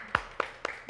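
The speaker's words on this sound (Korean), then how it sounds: "우리 박수로 일단 하나님께 영광 돌릴게요." A few sharp, separate hand claps, about four in under a second, from a congregation at a Christmas Day church service, fairly close and with no talking.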